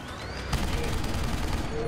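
Gunfire in the video game Deus Ex: Human Revolution: a sharp shot lands just after the start and is followed by dense, rolling crackle of further fire.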